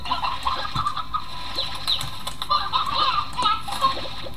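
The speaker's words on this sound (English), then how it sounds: "I'll grab some chickens." Chickens cluck in the video game Slime Rancher, a steady run of overlapping clucks and chirps that comes through clearly and continues without pause, with no speech over it.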